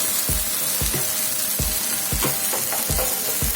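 Gongura leaves sautéing in a pan for gongura chutney crackle and sizzle continuously, broken by regular scraping strokes of a spatula roughly every half second, close and fairly loud with no voices.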